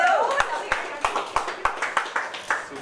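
Sparse, separate hand claps ring out about nine times at a steady, slow rhythm over a radio studio background, with a voice heard faintly beneath at the start.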